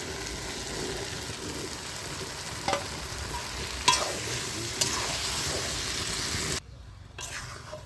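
Boiled potato being stirred into peas frying in a pan for vegetarian ghugni, with a steady close sizzle, a few sharp spoon knocks, and the frying noise briefly cutting out near the end.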